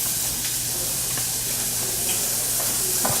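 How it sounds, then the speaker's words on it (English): Sausage fries and browns in a pan, rendering its fat, with a steady close sizzle running throughout and a few faint clicks of a utensil stirring; no one speaks. "Beautiful sausage, cooking away, getting nice and brown, rendering out its fat."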